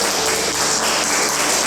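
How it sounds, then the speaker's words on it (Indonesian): A fifth-grade class of pupils claps loudly and close by, a brief, dense burst of many small hands clapping together in a classroom, with no talking over it. "Tepuk tangan semua"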